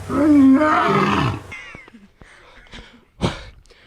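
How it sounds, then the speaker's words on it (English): A lion gives a long, loud roar up close, its deep moaning tone swelling then tailing off, followed by a few short grunts and a sharp breathy snort near the end. "Could you give us an example of the roar, please?"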